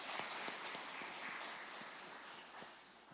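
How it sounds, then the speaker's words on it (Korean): Worshippers at a dawn service in a Korean church give a round of applause, a quiet, even wash of many hands clapping with a few distinct louder claps, fading slightly toward the end. "하나님께 영광의 박수 올려드리도록 하겠습니다"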